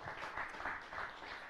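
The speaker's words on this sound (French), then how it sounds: "vous pouvez applaudir" Audience applause at an artificial intelligence tech meetup, steady clapping across the whole stretch at moderate distance, fairly soft, with no voices over it.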